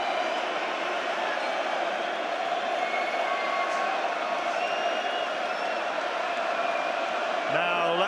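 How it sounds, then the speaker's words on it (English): A large boxing arena crowd awaiting Tyson Fury's entrance, producing a steady, dense roar of many voices that holds at an even level throughout, with faint whistles and calls rising through it. "And you can hear the reaction of the crowd."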